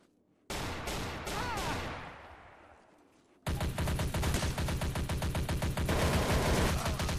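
Garry's Mod TTT gunfire: one loud sharp shot with a long ringing tail, then a dense run of rapid, evenly spaced loud shots that carries on without a break.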